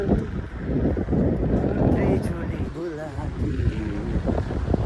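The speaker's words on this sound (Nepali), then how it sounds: "वाउ गाइज कस्तो दामी हावा चलिरहेको छ यार।" Strong wind gusts buffet the microphone outdoors in Romania, a constant loud rushing roar, with a voice speaking faintly underneath.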